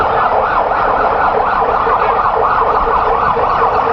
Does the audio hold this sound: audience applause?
no